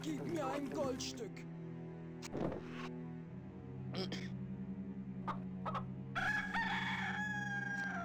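A rooster in the adventure game Discworld 2 crows several times in a pitched, drawn-out cock-a-doodle-doo, over sustained game background music and other game sound effects.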